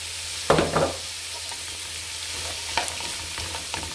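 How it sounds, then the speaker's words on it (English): Chopped cabbage and spring onion sizzling in a pan for Mauritian chicken fried rice, a steady fry hiss broken by a few sharp scraping stirs of the utensil, close and with no voices. "just stir that all around"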